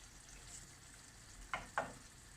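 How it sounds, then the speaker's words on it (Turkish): Onion sautéing with food in a pan at a highland house kitchen: a faint, steady sizzle with two sharp stirring clinks close together near the end. "çünkü yemeğim de burada kavruluyor. İçine soğan koydum."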